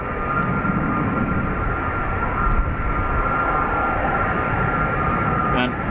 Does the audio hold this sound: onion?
no